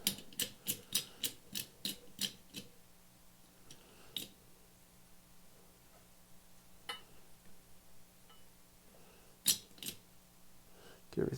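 A clamp being tightened on a glue test piece, a rapid run of sharp ratcheting clicks at close range, then quieter scattered clicks and a few later bursts.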